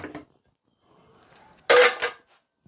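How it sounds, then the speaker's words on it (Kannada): Dishes, pots and pans clatter in a home kitchen during washing: a short clang at the start, a soft rustle, then a loud burst of metal-on-metal rattling close by, with no one talking. "ಪಾತ್ರೆ ತೊಳೆಯೋದು ತುಂಬ ಇದಾವೆ ಫ್ರೆಂಡ್ಸ್."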